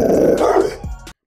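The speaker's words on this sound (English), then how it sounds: "Tibetan Mastiff." Tibetan Mastiff dog giving a short, deep, rumbling growl close by, loud and alone, ending abruptly after about a second.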